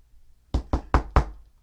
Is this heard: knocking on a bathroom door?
yes